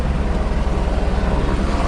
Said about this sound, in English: there's a helicopter right over there because they're doing some construction work